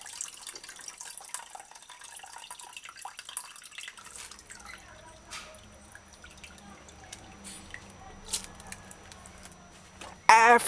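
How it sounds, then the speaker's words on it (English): Water runs and drips while rice is rinsed by hand in a kitchen pot, a light uneven trickle with splashes heard close up throughout and a louder splash at the end. "Move your fingers apart just enough for the water to flow through"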